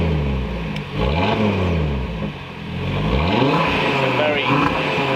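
An Audi RS3 8Y with a Milltek race exhaust revs repeatedly, the engine climbing and dropping in several deep, throaty swells, loud and close, with a voice speaking briefly over it.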